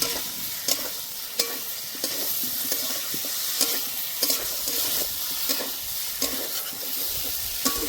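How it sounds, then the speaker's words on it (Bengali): Vegetarian soybean curry with fried potatoes being stir-fried in a pan: steady sizzling and frying with regular sharp scrapes and knocks of a spatula against the pan, close and continuous, no talk. "এবার ভেজে রাখা আলুগুলো দিয়ে দেব। এবার ভালো করে কষে নেব।"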